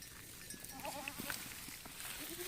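A goat bleats while being bottle-fed milk on a farm, several short, soft cries close by over faint sucking and handling sounds, with no talking.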